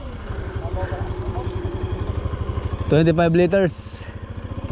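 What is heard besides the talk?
motor of power sprayer running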